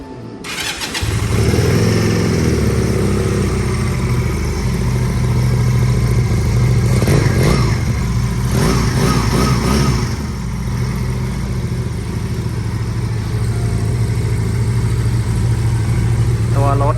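A 2022 GPX Legend 250 Twin, a two-cylinder 250cc motorcycle, starts and then runs at a steady loud idle for the whole stretch, with a few brief revs around the middle.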